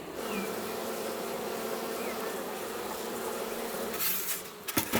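Honey bees buzz in a dense, continuous drone around queen-rearing cells, loud and near, with a few sharp knocks near the end.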